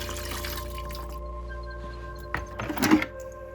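A dirty, long-uncleaned aquarium filter sponge is squeezed, sending a short gush of dripping water near the end over a low steady hum.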